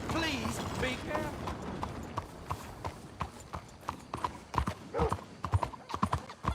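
Horse hooves galloping in Red Dead Redemption 2, a steady, close clip-clop with a brief whinny, under a voice at the start and game ambience throughout.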